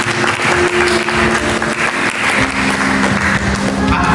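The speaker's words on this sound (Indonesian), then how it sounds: "Mari kita berikan tepuk tangan bagi Yesus." A church congregation applauds with dense, steady clapping that fills the whole clip at a loud, even level, over a faint sustained tone.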